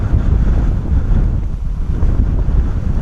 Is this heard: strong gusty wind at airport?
yes